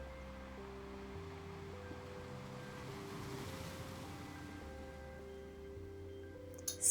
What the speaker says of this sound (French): Écoutez l'océan, les vagues.